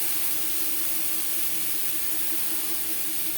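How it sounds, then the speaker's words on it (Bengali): Mango pieces with salt and turmeric frying in a pan for chutney, a steady soft sizzling hiss with no break, moderately quiet and close. "আম হালকা করে ভেজে নেব।"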